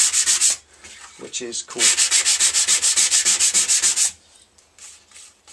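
Wet sanding of repainted Harley-Davidson XL883 Iron motorcycle paint with 1200 grit paper: close, steady rhythmic back-and-forth rubbing strokes in bursts, pausing briefly, with a short remark spoken.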